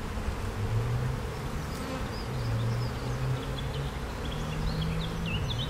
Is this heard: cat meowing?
no